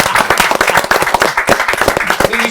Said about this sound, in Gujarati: વાહ વાહ ભાઈ, ખૂબ બધી જોરદાર તાળીઓ.